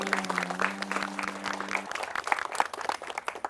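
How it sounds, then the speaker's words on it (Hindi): Applause in a housing society gathering welcoming an MLA, a burst of clapping from a small crowd that starts over a fading sustained tone and continues loosely to the end. "तालियां तालियां।"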